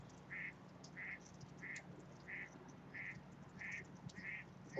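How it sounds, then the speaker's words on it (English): A duck quacks repeatedly in a steady, evenly spaced series of about eight calls, moderately distant over a faint background hum. "Yeah, you hear ducks."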